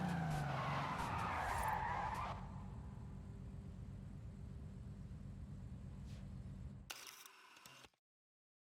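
A 1998 Toyota Supra RZ skids in the Forza Horizon 5 racing game, its tires screeching loudly for about two seconds before easing into a lower engine and road hum, ending in a brief camera shutter-like click and sudden silence.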